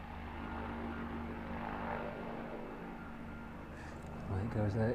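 An aircraft departing straight from a taxiway at East Midlands Airport, a faint steady engine drone with low tonal hum, overlaid by a voice speaking near the end.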